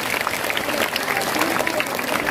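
An audience claps at a school Founder's Day celebration: dense, sustained applause from many hands, loud and close, holding steady without pause.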